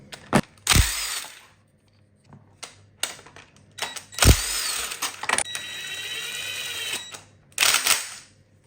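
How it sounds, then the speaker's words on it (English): A power tool removes old pulleys from a Volvo T6 engine during a timing belt change, with loud sharp bursts of impact rattling and whirring separated by quieter workshop pauses, close by. "first we'll take the old pulleys off and then we can fit these new ones"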